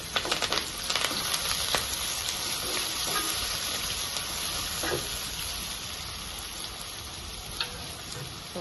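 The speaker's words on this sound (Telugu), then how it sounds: "లైట్గా ఫ్రై చేసుకుంటున్నాము" Curry leaves and chilies frying in oil in a pan for mutton fry, a bright crackling sizzle, loud and spitty at the start, then settling into a steady hiss with occasional pops.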